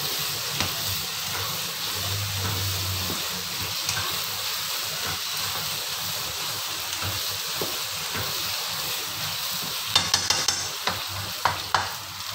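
Chilli paste sizzles and fries in a pan while being stirred, a steady hiss with scraping stir strokes and a few sharper clicks near the end.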